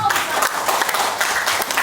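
An audience claps through a seminar-style motivational training talk, a dense, steady patter of many hands lasting the whole moment, fairly close and even, with no pauses.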